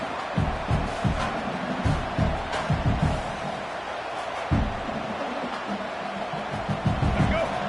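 A home stadium crowd in the Madden football video game roars steadily throughout, with repeated thumping bursts and swells of cheering under an announcer's commentary.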